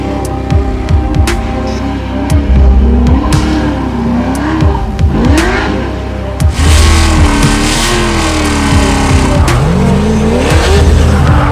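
A drift car on a test run drives loud and close, its engine revving up and down through the gears over a steady roar, with rising and falling pitch and a sustained burst of power near the end.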